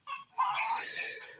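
A chicken being chased around a small yard lets out two quick bursts of agitated clucking, close and clear.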